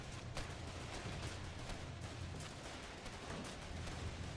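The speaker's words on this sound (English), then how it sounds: "Sounds like the artillery's readjusting their fire." Artillery fire in the war game Foxhole, a steady rumble of distant booms and shots layered into continuous loud battlefield noise with no clear gaps.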